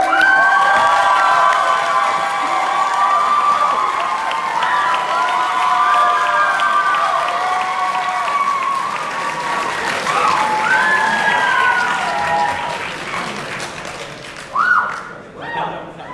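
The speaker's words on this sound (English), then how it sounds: "Thank you so much for the applause" A 2020 election debate audience cheers and applauds for a candidate, with loud whoops and shouts over steady clapping that gradually thin out, followed by a few thumps near the end.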